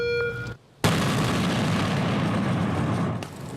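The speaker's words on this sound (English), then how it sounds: "scientists have staged an explosion that could occur on board an airplane" A staged explosion of a clear liquid explosive of the kind that could occur aboard an airplane gives one sharp, loud blast after a brief silence, then a long roaring rumble that slowly fades.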